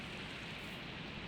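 Steady rain drumming on a roof, heard from indoors in the video game Minecraft, a dense, even patter without pause that stays constant and fairly soft throughout.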